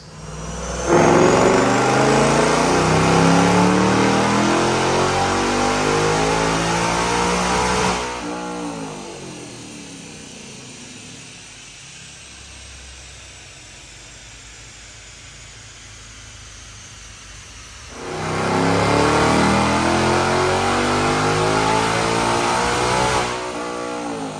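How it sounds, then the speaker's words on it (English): A supercharged 2024 Ford Mustang engine with a Whipple Stage 1 supercharger roars through a long revving pull on a dyno, drops to a low idle for several seconds, then climbs into another loud high-rev run. "Check out these dyno pulls."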